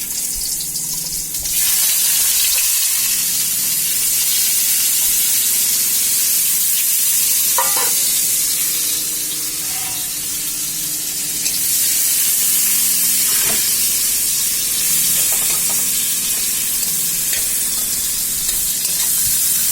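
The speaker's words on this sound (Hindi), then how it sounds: "पियाज टी भलसे भाजीदेवा पियाज भाजीगला" Sliced onions fry in hot oil with bay leaf for a hilsa fish curry, giving a loud, continuous close sizzle with occasional stirring scrapes and no talking.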